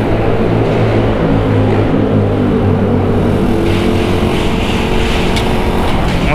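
A Suzuki Raider 150 motorcycle engine drones steadily while riding, a loud, continuous low hum with wind rush throughout and no talk.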